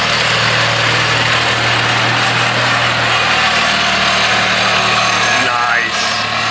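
A Simplicity Sunstar 20hp garden tractor engine, smoking and burning oil, runs at a steady idle nearby with a constant throbbing drone and faint mechanical rattle throughout.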